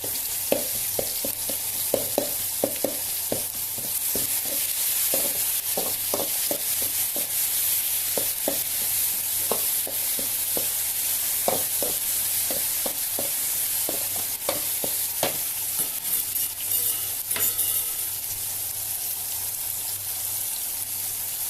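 Vegetables for sambar fry in a pan with a steady sizzle, broken by a run of scraping, rubbing strokes as a spoon stirs them, close and even throughout with no talking.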